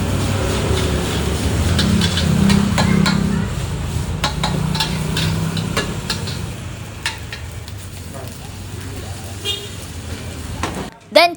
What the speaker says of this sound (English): Every swirl of the wok was deliberate, every flick of the wrist timed perfectly to build layers of flavor.